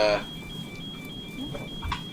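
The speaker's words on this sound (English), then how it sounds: "Now we're going to turn this ringing off now." A steady electronic cockpit warning rings continuously in an airliner in the Prepar3D v4.5 flight simulator, a constant high tone that stays level under faint background hum.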